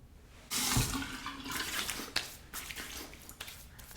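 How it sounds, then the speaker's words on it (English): After a shave with a Merkur 34 stainless steel razor, water splashes in a loud rush that settles into softer intermittent splashing and dripping nearby, with no talking. "Slight rinse to the face."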